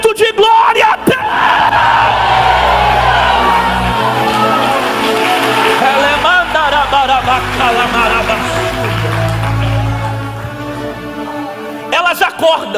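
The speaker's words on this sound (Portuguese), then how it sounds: "Quem recebe, solta o grito de glória a Deus." A church congregation shouts and cheers together in a sustained roar of overlapping voices, loud and close, crying out praise for several seconds before the noise tapers.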